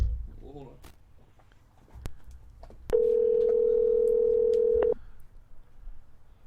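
A single steady electronic telephone ring tone sounds for about two seconds against a quiet room, with some faint clicks and rustling around it.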